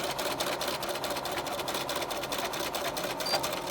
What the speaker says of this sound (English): I'm just gonna stitch.